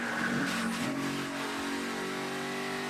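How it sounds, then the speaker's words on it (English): A NASCAR race car at Kentucky in 2016 runs loose with its tires spinning, a droning engine and tire noise rising then holding steady, heard from a distance over track ambience. "Listen to the tires spinning."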